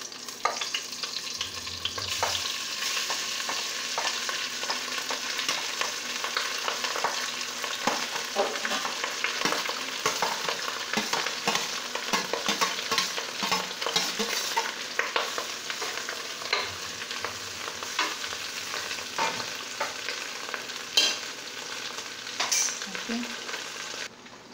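Rice goes into a hot pot over fried chicken for kuzhi mandi, with continuous sizzling and frying crackle throughout and occasional stirring scrapes.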